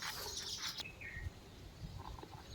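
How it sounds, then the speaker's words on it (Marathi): Small birds chirp at a garden feeder filled with grain, a bright twittering burst up front followed by a few thinner whistled notes, faint and distant against a soft outdoor hush. "मी फक्त पक्ष्यांच्या आवाजासाठी व्हिडिओ घेते आहे"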